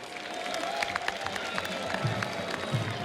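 An audience at an official ceremony applauds the Prime Minister of Burkina Faso, scattered claps and crowd murmur at moderate distance, with a voice briefly rising through the noise.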